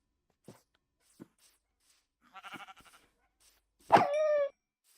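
Minecraft sheep bleat in a game, with a few faint soft taps and short game sounds before a loud wavering bleat near the end.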